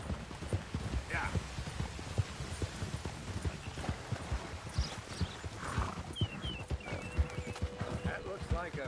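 Horse hooves clip-clop steadily through the Red Dead Redemption 2 video game world, with a horse whinnying briefly and voices talking over the rhythmic footfalls.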